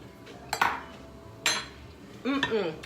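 A spoon clinks against dishes while tempeh stuffing is being tasted, three short close metallic clinks and scrapes spaced apart, the last one briefly overlapping a voice.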